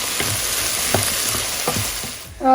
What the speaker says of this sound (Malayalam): ഇനി നമുക്കിതിലേക്ക് ഒരു 4-5 അല്ലി കറിവേപ്പിലയും കൂടി ഇട്ടിട്ട് നന്നായിട്ടൊന്ന് വഴറ്റിയെടുക്കാം